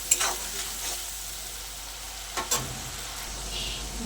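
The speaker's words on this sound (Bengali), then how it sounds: "পেঁয়াজ বাটাটা তেলের সঙ্গে একটু ভাজা ভাজা করে নেব।" Onion paste frying in oil in a pan while cooking Bengali fish curry, with a soft steady sizzle under a few sharp stirring scrapes near the start and middle, close by and with no talk.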